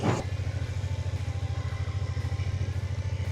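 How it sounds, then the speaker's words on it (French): BMW F 450 GS motorcycle with Easy Ride Clutch, its engine running close by with a steady, throbbing pulse as it rolls around at low speed, no voices over it. "Je vais faire le tour, je vais m'arrêter devant vous sans avoir à remettre l'embrayage et vous allez voir que la moto ne va pas caler."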